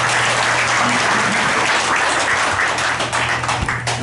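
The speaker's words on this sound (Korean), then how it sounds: "큰 박수로 환영해 주시기 바랍니다" Loud, dense applause welcoming a guest at a Danyang U clan summer retreat at a rural experience school in Uiseong, close and continuous with a low steady hum beneath and a few sharper claps near the end.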